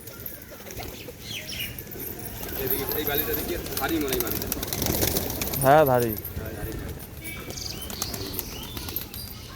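Domestic pigeons take off with a few brief bursts of flapping wings and some cooing nearby, mixed with a person talking and background rustle.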